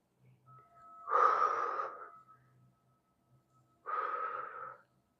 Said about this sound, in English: Again, inhaling and exhaling.